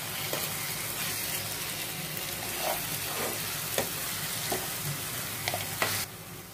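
Chili powder being stirred into a spicy village-style mushroom curry with onion paste in a hot pan: continuous close sizzling and frying with soft scraping stir strokes and a few light clicks, no voices.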